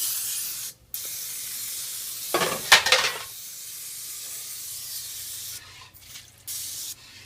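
A short burst of aerosol oil spray onto a cake pan hisses for about a second against a quiet background, with a few faint clicks and handling noises around it.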